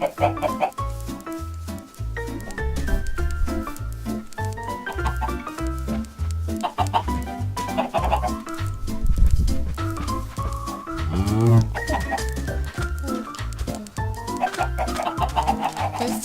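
Chickens cluck in Minecraft 1.7.2, the calls running through dense, steady, rhythmic background music that stays fairly loud for the whole stretch.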